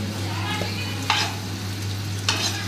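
Potatoes frying in a pan for an egg curry make a steady close sizzle over a low hum, broken by two short scraping stirs.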